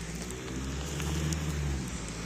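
Steady rain falls in an even, close wash of patter with a low rumble beneath it, continuous throughout and with no voices.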